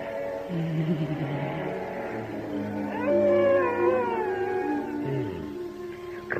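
A man growls and yowls like a cat, a voice imitating the animal with drawn-out rising and falling wails, loud and close with no other sounds.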